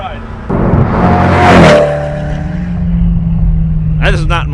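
A Koenigsegg One:1 supercar on a race track drives past with a steady, loud engine roar that swells to a peak and then eases into a sustained drone, with a voice briefly heard near the end.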